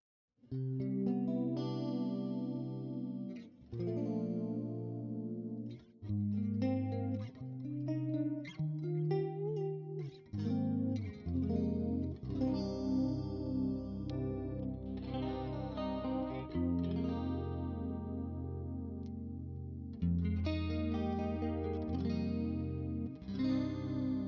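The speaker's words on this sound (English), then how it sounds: "the Alnico coils remain active when you split them for like a warmer, prettier split sound" An electric guitar with a coil-split Alnico pickup plays chords and picked notes with a clean, shimmering chorus-like effect, steady and alone without any talking.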